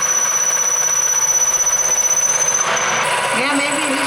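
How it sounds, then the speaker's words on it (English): A solid carbide 8mm drill grinds into hardened steel with a steady, loud whine and a high squeal, its pitch shifting partway through. "drilling hardened stuff is always challenging"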